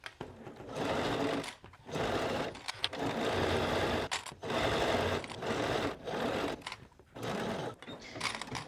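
Sewing machine stitching a hoodie lining, running in several steady bursts of a second or so each, separated by brief pauses, close and fairly loud with no talk.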